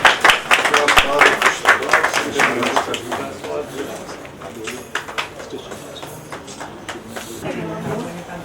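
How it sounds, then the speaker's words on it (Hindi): Enthusiastic applause from a crowd at a retirement farewell party, loud at first and gradually thinning into scattered claps. "आप जोरदार तालियों के साथ उनका स्वागत करें।"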